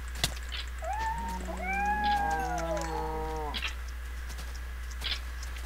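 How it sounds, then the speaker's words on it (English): Video game cats meow: several drawn-out, wavering meows overlap and rise and fall in pitch for about three seconds over a steady low hum, then fade back to the game's background noise. "I do not like those cats."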